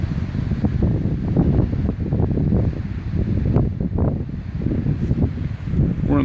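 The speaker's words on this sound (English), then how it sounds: "And there goes the wind again." Wind gusting around a camper in a wind storm, a steady broad roar with rising and falling surges that buffet the microphone throughout, with no talking.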